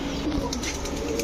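Pigeons kept for sale, racing, Giribaz and fancy breeds, give soft, low coos close by, mixed with brief rustling and light chirps over a short stretch.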